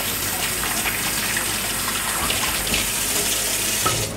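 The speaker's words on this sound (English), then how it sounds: "Lovely, and then we'll wash our hands" Tap water runs steadily from a faucet into a sink during hand washing in a kitchen, a constant close gushing hiss lasting throughout with no voices.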